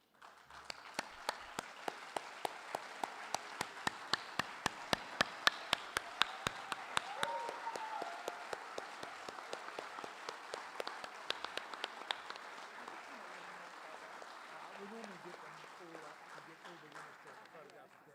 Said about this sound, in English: so we could all give you a final round of applause